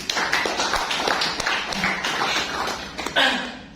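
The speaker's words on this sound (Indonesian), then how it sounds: "Tepuk tangan buat Om Henry" Crowd at a business launch event in Yogyakarta applauds, a sustained, fairly loud patter of many hands clapping for nearly four seconds.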